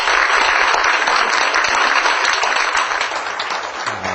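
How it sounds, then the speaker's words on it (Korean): Audience applause welcoming a speaker at a family ministry lecture, loud and dense, sustained throughout and easing slightly near the end. "박수로 환영하도록 하겠습니다."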